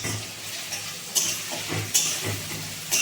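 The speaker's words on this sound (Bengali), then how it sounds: "এখন মশলা ভাজছি।" Whole spices and garlic frying in a pan for a meat curry, a close sizzle broken by repeated scraping stirs about every second.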